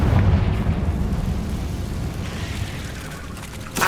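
A Confringo spell explosion in Hogwarts Legacy gives a deep rumbling boom that fades into a low, sustained roar, with a sharper burst near the end.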